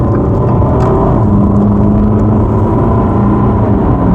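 A Jeep Renegade on a test drive accelerating hard, its engine giving a loud, steady, close droning roar with a faint rising tone and no voices over it.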